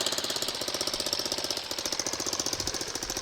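Small engine of a homebuilt reverse trike idling after being cleaned with degreaser, a rapid even chugging knock running steadily and close, with no talk.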